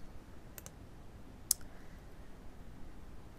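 Computer mouse clicks come close and quiet: a quick double click early, then one sharper single click, against a faint, hushed room background.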